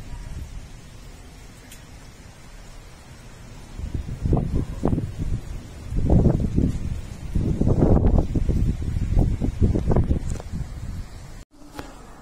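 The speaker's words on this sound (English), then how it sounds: "we raised the shutters to see how the wind was still blowing." Strong storm wind in Zagreb, Croatia, gusting and roaring outside an apartment's raised balcony shutters, starting as a steady hum and swelling into loud rushing bursts before a brief dropout near the end.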